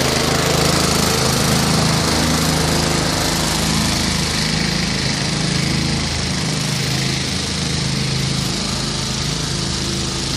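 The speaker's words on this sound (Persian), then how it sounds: "سمپاش موتوری 100 لیتری استفاده کرد. سم داخل سمپاش به صورت موتوری بنزینیه" A gasoline engine drives a motorized 100-liter pesticide sprayer, giving a loud, steady, close-up droning whine that runs without a break from start to finish, with no voices.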